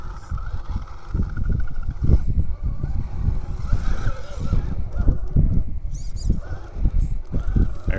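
Vanquish Products Stance RC crawler grinding over rocks, with dense low motor whine and scraping that swell and ease as it pushes its front up onto a rock, close and steady throughout.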